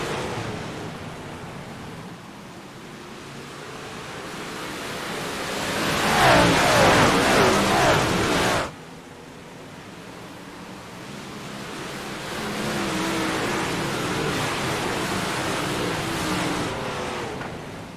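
Sprint cars restarting on a dirt speedway track at Lernerville or Weedsport: a loud, roaring pack of engines swelling as the field accelerates, then a steady distant drone of cars circling, with crowd wash behind.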